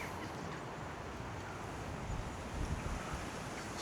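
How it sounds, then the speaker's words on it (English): Strong wind gusting beside a trout river, a steady broadband roar buffeting the microphone for the whole stretch and swelling louder toward the end, with no voices. "It is really windy today."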